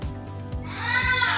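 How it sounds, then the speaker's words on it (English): A house cat lets out a drawn-out, bleating meow that sounds much like a goat, close and fairly loud, following a few soft low thumps. "That's the cat."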